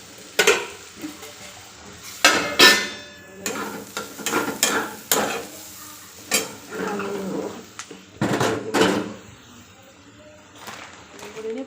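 Potatoes frying in oil in a home kitchen, heard as a low sizzle under repeated loud clanks and scrapes of a utensil stirring in the pot, with cutlery clatter and brief bursts of activity.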